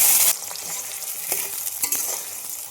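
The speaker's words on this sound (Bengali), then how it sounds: "ভালো করে মশলাগুলো কষিয়ে নেব।" Chicken and spices sizzle and hiss while being stir-fried in a pan, with scraping stirs recurring in a steady irregular rhythm, close and moderately loud, with no talking.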